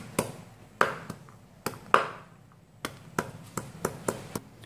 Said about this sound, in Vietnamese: Hành thơm và tỏi các bạn băm nhỏ ra cho mình và mình cho vào đĩa nhé.